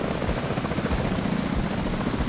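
A helicopter in The Division 2 flies close by, its rotor beating in a steady, loud thumping drone across the whole short stretch, with no voices.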